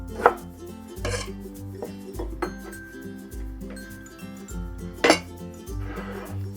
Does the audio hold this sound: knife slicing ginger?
yes